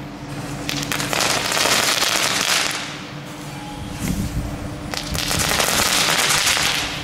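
Dense bursts of rapid crackling pops from Aldi firecrackers come in two long waves, loud and close, with a sharp bang between them.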